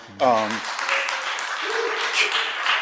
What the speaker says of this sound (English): Give yourself a round of applause, I guess.